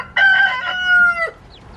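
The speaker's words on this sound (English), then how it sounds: "Definitely got a few roosters, but that's okay." A young farm rooster from home-hatched eggs lets out a single loud, close crow, a strained rising call that holds for about a second before breaking off, followed by quiet.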